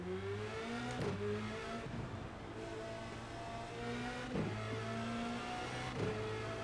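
A race car in the iRacing simulator rolls out of the pits, its engine a steady mid-level drone with clear harmonic tones that step up and down through gear changes, heard alone.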